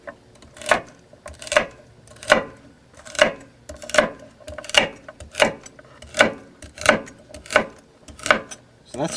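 An ENOWO kitchen knife chops celery on a board in steady, evenly spaced crisp strokes, about a dozen close, clear thuds with no talk over them.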